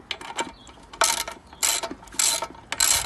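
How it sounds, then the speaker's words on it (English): A ratchet wrench backs a small bolt out of a Briggs and Stratton carburetor, giving four short bursts of rapid clicking with brief pauses between them. The sound is close and there is no talking. "we have another small bolt here I just want to remove"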